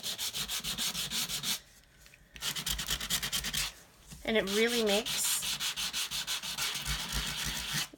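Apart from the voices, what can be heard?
sanding cardstock with sandpaper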